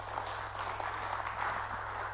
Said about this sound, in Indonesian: Tepuk tangan buat Tuhan kita.